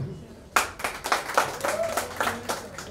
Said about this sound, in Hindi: मीठी मीठी तालियां हो जाए.